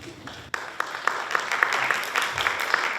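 Audience applause at a school committee candidate forum sponsored by a teachers' union, a steady patter of many hands clapping that starts abruptly and continues at moderate level with sharp individual claps standing out.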